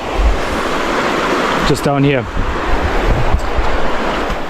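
Ocean surf washes steadily onto a shore, a continuous near rush of water and wind under a brief spoken remark.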